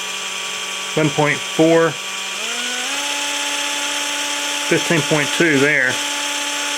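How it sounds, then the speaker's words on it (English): An electric drill spins a Datsun 260Z/280Z distributor, its motor whine rising in pitch and then holding a steady tone, with short bursts of someone talking before and after. "if I can get this drill to go, it's not my best drill. We'll go fast with this thing."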